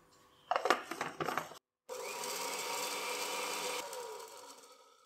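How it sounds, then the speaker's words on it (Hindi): A kitchen grinder coarsely grinding whole spices for achari chicken biryani, including fenugreek seeds, nigella, coriander seeds, bay leaf and cumin: short rattling pulses, a brief pause, then a sustained loud whirring run that winds down. "तो इसको हम दरदरा सा पीस लेंगे"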